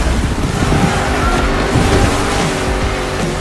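Engine and churning water of a car driving down a river in The Crew Motorfest, a steady loud rush of wash, wind and low motor rumble throughout with no talk.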